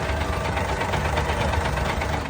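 A car engine idles steadily up close with the valve cover off, a smooth continuous rumble with a faint regular pulse and no talking.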